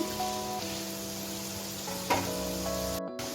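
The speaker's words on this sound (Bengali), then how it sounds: "এখন আমি কড়াইতে দিয়ে দিচ্ছি বা চিচিঙ্গা যেটা বলে নেড়ে চেড়ে দিচ্ছি" Snake gourd is stir-fried in a wok with a constant close sizzle. A brief clink of stirring cuts through partway, and the clip ends with a sudden drop-out.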